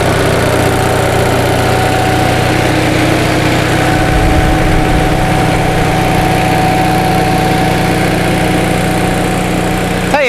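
A 1945 Onan generator engine runs nearby at a constant, even pitch, a dense mechanical drone that continues unbroken throughout with no voices.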